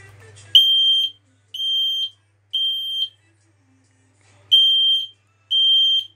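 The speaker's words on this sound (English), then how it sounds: "It is louder than any other smoke alarm that I have." A Fire Angel smoke alarm sounds after its test button is pressed, giving five loud, piercing electronic beeps of about half a second each, heard close up, with a longer gap after the third.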